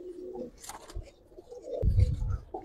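Giribaz pigeons coo in a cage with three males, soft low throaty coos close by, followed by a brief rustle of movement.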